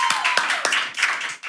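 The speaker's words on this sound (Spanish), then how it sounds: "queremos pedir un fuerte aplauso para el Big Boss con ustedes, Jorge Luna" Brief burst of audience applause at a live show staged at a stadium, a dense patter of clapping hands that swells and dips over about a second and a half before cutting off.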